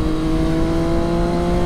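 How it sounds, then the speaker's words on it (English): Inline-three engine of a Triumph Daytona 675 motorcycle on an open road, holding a loud, steady, strongly tonal drone with a high whine and no break, with no voices. "But you hear the inline 3 motor."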